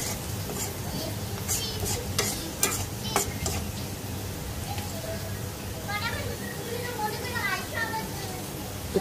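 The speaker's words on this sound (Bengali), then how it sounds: "এখন পেঁয়াজটা ভাজবো।" Chopped onion sizzles and crackles in hot oil in a pan, stirred with clattering scrapes of a utensil against the metal, a steady close fry with scattered sharp knocks and a voice talking over it.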